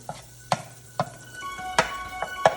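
Butter sautéing in a pan as garlic shrimp pasta gets going, a faint sizzle underneath sharp intermittent clacks of a utensil scraping and tapping the pan, close and fairly quiet, with no talk.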